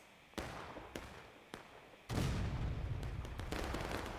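Distant cannon fire in a Civil War battle video game: three muffled booms spaced about half a second apart, then a heavier rolling blast and a sustained rumble with scattered crackles.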